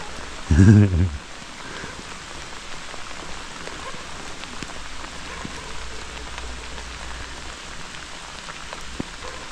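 Steady rain patters on surfaces in the woods during a rain camping trip, a dense continuous hiss throughout, broken near the start by a brief loud thump of handling noise.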